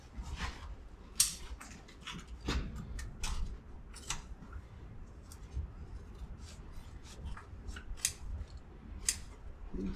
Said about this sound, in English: Scissors seem to be working pretty good.